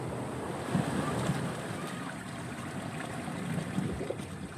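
Rough sea waves surge and roar in a continuous broad wash, with wind buffeting the microphone and faint voices in the background.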